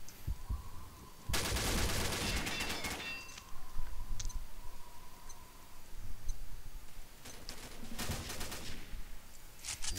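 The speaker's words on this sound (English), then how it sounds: "he's shooting at me" Automatic gunfire in the Combat Arms shooter game: two distant bursts of rapid shots over a steady low game background, with faint clicks and ticks between them.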